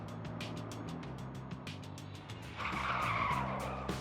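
A black Vauxhall Insignia refusing to stop for police skids across Lincolnshire country roads, its engine humming steadily before the tires break into a loud, sustained squeal for the last second and a half.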